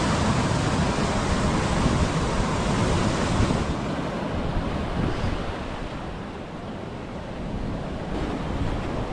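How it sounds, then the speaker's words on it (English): Surf rolls in steadily at Koki Beach, a red sand beach in Hawaii, as a broad, continuous roar of breaking waves mixed with wind rumble that eases slightly midway before building again. "This one's called Koki Beach."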